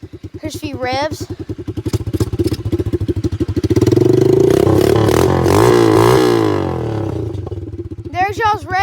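An Apollo 110cc dirt bike engine idles with a rapid, loud putter, then revs up into a sustained snarling blip before dropping back to a choppy idle, close to the microphone.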